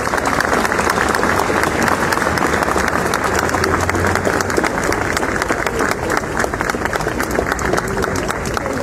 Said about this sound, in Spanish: Recibimos a la Virgen con un inmenso aplauso